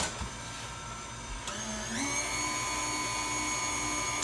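Electric mixer stirring flour into buttermilk pound cake batter, a steady whirring motor hum with a short pitch rise as it speeds up midway, then holding a constant whine, close and moderately loud.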